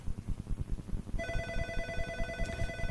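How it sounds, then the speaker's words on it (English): A telephone bell starts ringing partway through, a bright steady trilling tone over a low rumbling background, sounding continuously to the end. "Telephone."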